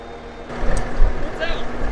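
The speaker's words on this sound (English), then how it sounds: "Now I'm gonna try and pull the rock picker out." A tractor engine labors while pulling a stuck rock picker, a low rumbling drone that swells partway through, with a person talking over it.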